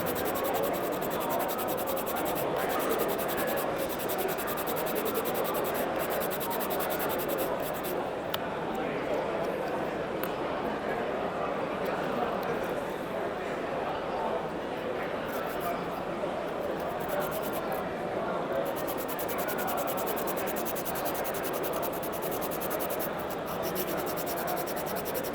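A cut section of a plastic Gundam model is rubbed flat with steady, continuous scratchy sanding strokes close up, lasting the whole stretch with no breaks.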